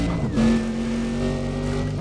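A racing car's engine in Need for Speed: Undercover roars steadily at high revs, its pitch dipping briefly as if shifting and then holding a sustained whine, loud and close with no voices over it.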